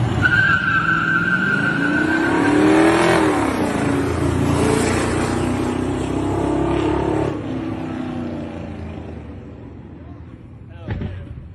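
A car brakes hard and skids during a parking race, a long rising tire screech with engine noise lasting several seconds, loud and close, then fading out with a brief knock near the end.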